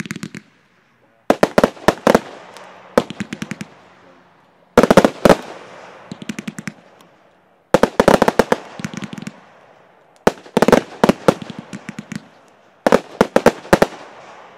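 A Big Van 36-shot firework cake fires in repeated rapid volleys of sharp bangs and crackles, each cluster followed by brief quiet gaps, loud and outdoors, with no voices.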